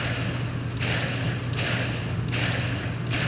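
Gunshots in the video game Halo 3 ODST, heard as four evenly spaced thumping shots over a constant low game hum, with no talk over them.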